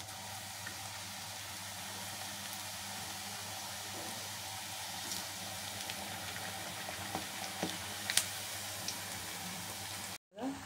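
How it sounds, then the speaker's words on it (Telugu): Jowar flour appalu frying in hot oil, a steady soft sizzle and bubble that holds throughout with a few small pops near the end, close and fairly quiet. "ఆయిల్లో కాగుతున్న ఆయిల్లో వేసేసుకోవాలి."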